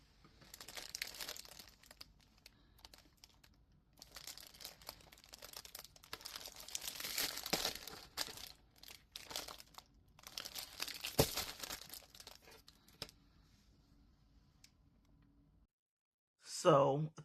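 Sheets of pink paper from a Dollar Tree paper pack being handled, giving close, intermittent bursts of crinkling and rustling with quiet gaps, then a short louder noise right at the end.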